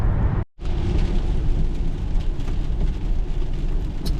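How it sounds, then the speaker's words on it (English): Steady rain falling during a long road trip toward Seattle, a dense continuous hiss with a low rumble, close and loud throughout apart from a brief dropout near the start. "It's just started raining pretty good"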